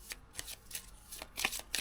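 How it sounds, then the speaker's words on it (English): A small stack of 14 tarot cards is shuffled by hand close up, giving soft, quick riffling flutters in a rapid irregular rhythm, faint and alone with no talk. "There's not many cards to shuffle here."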